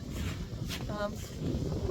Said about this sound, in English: Oh, it is so windy down by the water.